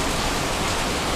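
Heavy rain pours down onto a stoop in Texas, a dense, loud, unbroken hiss of water with no gaps and no voices.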